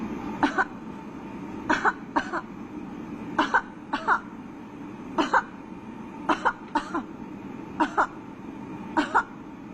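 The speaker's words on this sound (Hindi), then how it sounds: "अभी जब मैं बोलूंगी तो आपको खांसी करनी है" A person coughs on request for a smartphone app that tests for Corona, repeatedly in short pairs, steady bursts spaced a second or so apart, close to the listener over a low background hum.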